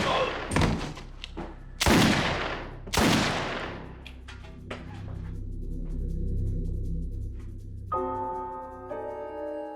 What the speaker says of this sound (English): He was shot 3 times in the back with a small caliber handgun